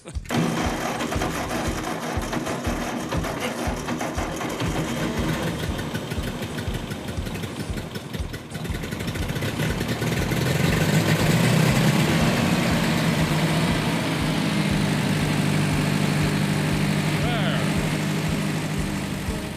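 An old, flooded 8N tractor engine idles loudly nearby with a fast, rhythmic chugging that swells slightly midway, with a voice heard faintly under the noise.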